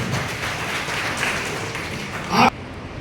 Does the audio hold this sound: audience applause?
yes